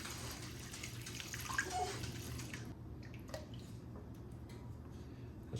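Homemade butter being rinsed in water in a churning kit, a quiet continuous sloshing and trickling that thins out halfway through into scattered faint drips and small squishy movements.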